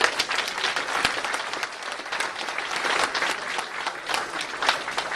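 Sustained applause from an audience at a public event, dense steady clapping from many hands with no speech over it, filling the whole stretch.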